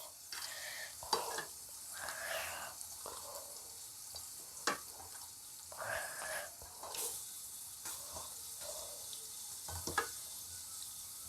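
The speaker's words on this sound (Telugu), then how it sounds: "పసుపు ఇవన్నీ కలుపుకుందామండి ముక్కలకి" Turmeric and spices being mixed by hand into pieces of bommidayi fish for an Andhra-style pulusu, giving quiet, intermittent wet squelches and soft rubbing sounds with brief pauses and no talking.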